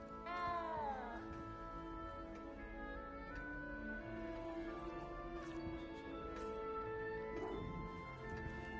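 A little cat meows repeatedly in Hogwarts Legacy, a series of drawn-out, plaintive cries close by over a steady game soundtrack with no talking.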